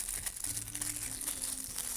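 A small paper packet of cat-shaped paper stickers is handled during an unboxing, giving a soft, close, continuous crinkling and rustling with no talking.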